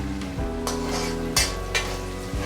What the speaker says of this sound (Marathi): फ्राय करून घ्यायचं छान असं आलं आणि लसूण आपण आधी टाकलं तर काय होतं त्याचा छान असा तडका लागतो